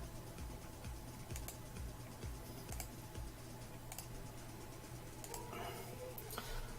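Computer keyboard keys pressed while modelling in Blender, a run of light, quick clicks close by over a steady low hum, with no one talking.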